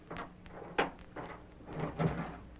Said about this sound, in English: Just wait till I unlock it.